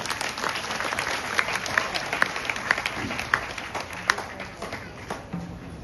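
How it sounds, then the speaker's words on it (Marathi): An audience at a Guru Purnima gathering at Siddharameshwar Math in Goregaon breaks into hearty applause, dense clapping with sharp individual claps standing out, sustained for several seconds and tapering near the end. "बघा हे जे बनवलेले आहेत यांच्याकरता एकदा जोरदार टाळ्या होऊन जाऊ द्या।"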